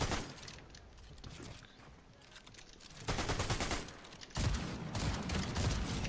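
Shotgun blasts in the battle royale game Fortnite, close and loud, arriving in dense bursts of gunfire that stop for a quieter stretch and then return with heavy force.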